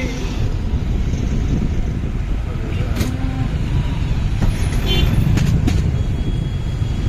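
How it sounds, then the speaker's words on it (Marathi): Dense road traffic on the Mumbai to Chiplun highway: a steady loud roar of cars, buses and trucks passing close by, with a brief air-brake hiss and a slight swell in the rumble toward the end. "काय हा ट्रॅफिक बाई।"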